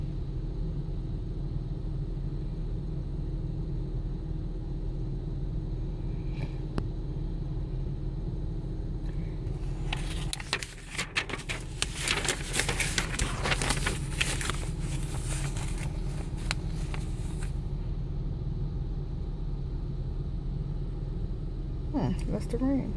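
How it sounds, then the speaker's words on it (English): A parked car's engine idles on a chilly day, a steady low rumble running throughout with a brief louder burst of noise in the middle and some talk. "that's why you hear my car running"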